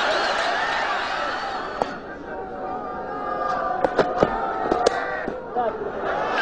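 Cricket crowd cheering and celebrating after a West Indian batsman is dismissed at a 1996 World Cup match against Kenya, a broad, steady roar with scattered whistles and sharp bursts, heard under a commentator's voice.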